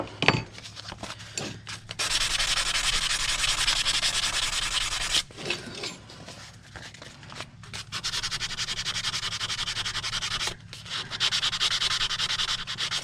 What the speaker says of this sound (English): I'm just so focused on sanding this